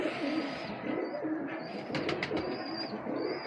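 High-quality pigeons coo softly and repeatedly at close range, low throaty rolling calls in a steady rhythm, with faint chirps and background noise.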